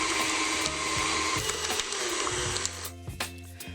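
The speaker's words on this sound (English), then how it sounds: "In a stand mixer fitted with a paddle attachment, mix together your cream cheese and butter until fully incorporated" Stand mixer with a paddle attachment beating cream cheese and butter, a steady motor whir with rhythmic thumping of the paddle through the thick mixture, close and continuous throughout.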